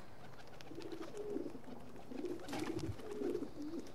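Pigeons coo repeatedly at a coop in the video game Assassin's Creed II, a steady layered cooing that carries through the whole stretch over a faint ambient hum, with no talking.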